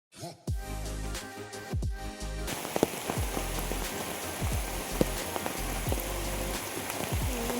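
Heavy rain pours steadily on surfaces outdoors, a dense, loud, continuous hiss with scattered heavier drops and a few thuds at the start.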